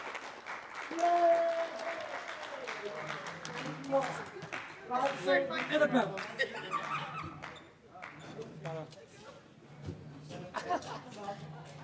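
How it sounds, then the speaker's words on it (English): An audience claps for the cast after a play, applause swelling and fading with scattered chuckles and voices talking over it. "And one more time for the cast, give them a round of applause."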